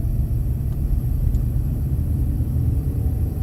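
A low, steady road rumble fills a car's interior while it drives in Toronto in the evening, a constant close drone with no talk.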